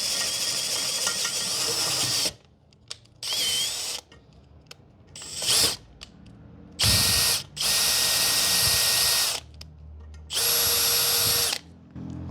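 Makita DHP490Z brushless drill boring through metal in several bursts of high whine, each lasting one to three seconds, loud and close, with quiet gaps between them.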